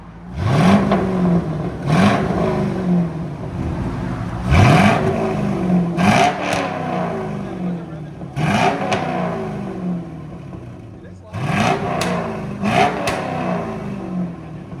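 A 1999 Chevy Corvette with a 5.7L V8, H-pipe delete and Borla ATAK exhaust revs hard in about six loud, close blips, each rising and falling sharply with short pauses between.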